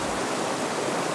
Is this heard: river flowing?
yes